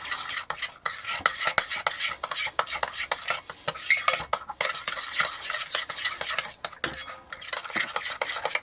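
Coleslaw dressed with celery seed, black pepper and dill being mixed in a bowl: busy, close scraping and clinking of a utensil against the bowl, with continuous wet stirring and no talking.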